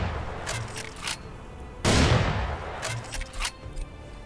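Gunfire in the shooter game Serious Sam 4, aimed at a target: a loud sustained burst of shots in the middle of the clip, preceded and followed by scattered, fainter shots, with no talking.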